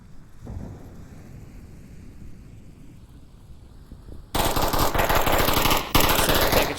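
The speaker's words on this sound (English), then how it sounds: "Taking shots at the fence again" Sustained automatic gunfire erupts in the Onward VR game, a dense rapid burst of loud shots following a few seconds of quieter rumbling background, close and continuous without voices.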